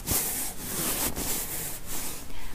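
Close, rhythmic hand rubbing across a neck in an ASMR massage, soft broadband strokes repeating about every half second with no talk.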